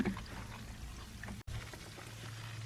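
Water pouring into a brand-new container on a homestead, a soft, steady rush and splash heard close but faint, with a brief interruption midway.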